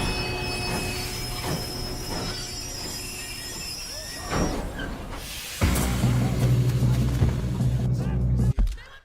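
Steel train wheels squeal loudly on rails in the Red Dead video game, a sustained metallic screech over heavy rumbling that swells partway through, with voices talking beneath it.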